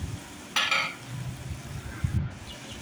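Onions cook in a pan for a Tamil piranda thovaiyal, with a soft, steady sizzle under a sharp stirring scrape of a spoon and a few quieter clinks and scuffs.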